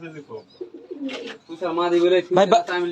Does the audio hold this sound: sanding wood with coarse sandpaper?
no